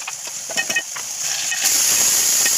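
Ginger-garlic paste, curry leaves and tomato sizzle in hot oil for a dal tempering, a steady bright hiss with a few small crackles, swelling louder and fuller partway through.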